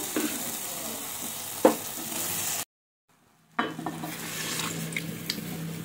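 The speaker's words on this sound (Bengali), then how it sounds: "মশলাটা কষিয়ে ডাল সিদ্ধটাও দিয়ে দিলাম।" Spices sizzling in a pan with boiled dal (chana dal), stirred with a utensil: a steady frying hiss with scraping clicks, a sharp knock near two seconds, then a second or so of silence before the sizzle and stirring resume.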